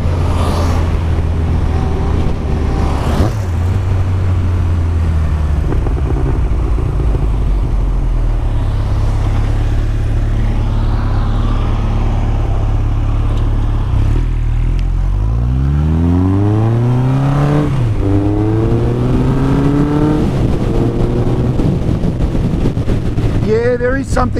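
A Honda CB1100 motorcycle with an 1100 cc engine runs steadily while riding, a loud continuous rumble with wind noise, then revs rise and fall in sweeping pitch changes near the end; a voice talks over parts of it.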